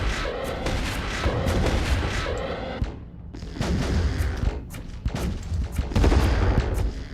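Spaceship weapons firing in the space strategy game Distant Worlds 2: dense, continuous volleys of booming shots and blasts, loud and sustained, dipping briefly before resuming heavier.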